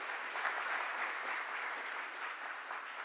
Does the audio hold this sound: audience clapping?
yes